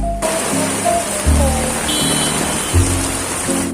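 Heavy rain pours down in Guwahati, a dense, close wash of hiss and splatter that fills the whole stretch while someone talks steadily over it.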